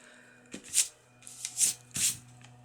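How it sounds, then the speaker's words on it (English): Edges are torn off scrap paper for an autumn collage, three quick close rips with a crisp rustle, quiet against a faint steady background hum. "I am actually going to rip those edges off"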